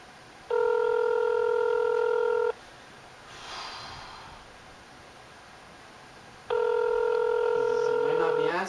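A telephone rings out while calling a friend: two long, steady electronic tone bursts separated by a pause, loud and clear, with a soft breath between them.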